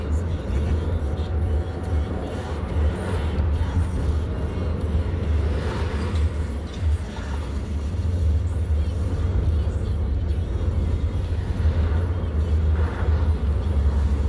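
Steady road traffic passing near a dike trail in Colorado, a continuous low rumble and whir of vehicles with no distinct breaks, fairly loud throughout.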